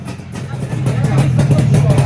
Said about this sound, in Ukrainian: Так, що там трошечки розігрівся мотор вже. А послухайте звук від циліндрів.